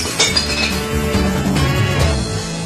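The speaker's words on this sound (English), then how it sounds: "Listen to the tinkling and smashing of the glass as it falls into the bin." Glass bottles and jars tumble into a recycling bin, giving a busy, continuous run of clinking and tinkling with occasional sharper smashing crashes, fairly loud and close with no talk.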